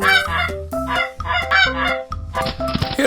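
A goose sound effect for a toy farm diorama honks in a quick series of loud, nasal calls, about five in a row, with a burst of noise at the end.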